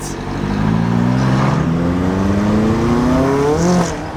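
McLaren 570S sports car revving hard and accelerating, its engine note climbing steadily in pitch for about four seconds, loud and close.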